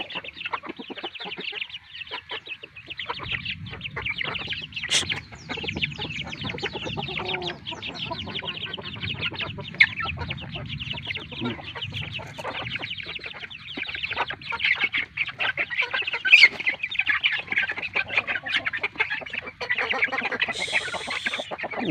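Pet chickens, including a hen with eight chicks, cluck and chatter steadily at close range in a farmyard, with soft peeps and occasional louder calls and no talking throughout.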